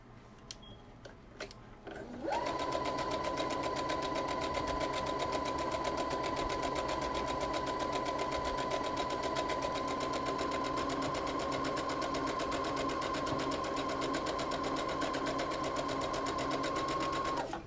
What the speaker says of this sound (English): then the inside I'll just sew in a straight stitch